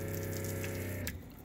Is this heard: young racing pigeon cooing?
no